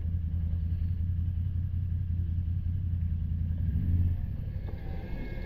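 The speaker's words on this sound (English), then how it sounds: "she's gonna ride the quad." A quad ATV engine rumbles steadily on trails on a humid summer day, a low continuous drone with a slight swell near the end, heard fairly close with no talking.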